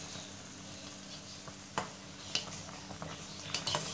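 Pasta boils in a pot of water in a home kitchen for Indian-style masala pasta, a steady bubbling hiss broken by a few sharp clinks and taps, close, with no voices.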